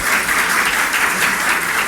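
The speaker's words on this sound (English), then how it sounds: "Put your hands together for them, please." Audience applause at a celebration honouring a chairman, steady and dense clapping from a nearby crowd that fills the whole stretch without a break.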